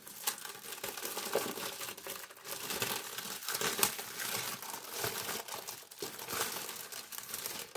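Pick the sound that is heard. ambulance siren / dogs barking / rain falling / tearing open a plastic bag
tearing open a plastic bag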